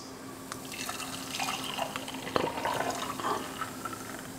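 Homemade beetroot, ginger and lemon juice poured out into a container, a soft steady splashing trickle with a few small drips and clinks, fairly quiet and close.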